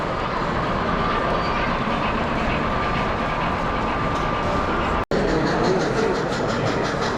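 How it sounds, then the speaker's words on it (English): A model steam train circles a toy train layout at an indoor toy train show, a steady rolling rumble with faint clicking running continuously and a brief dropout near the end. "There's the steam train again."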